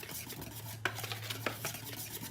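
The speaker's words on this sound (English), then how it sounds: "I just want to whisk that in." Flour, baking soda, baking powder and salt whisked together in a bowl: quiet, soft scratching with a few light clicks of the whisk against the bowl, close and alone.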